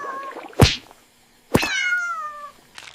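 A kitten gives a drawn-out, high meow, close by, after an earlier short call and a sharp knock; no talking.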